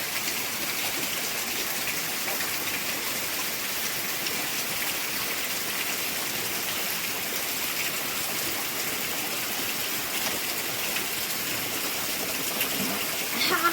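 Steady rain pours down with a dense, continuous hiss, loud and unbroken throughout, with no other sounds standing out.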